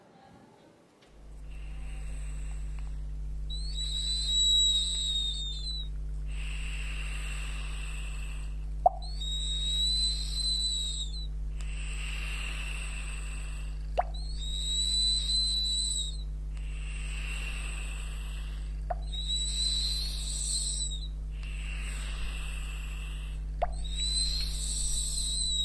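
An experimental model of a Mesoamerican whistling vessel gives repeated breathy, high whistles in short evenly spaced bursts with brief gaps, over a steady low hum, for about two dozen seconds.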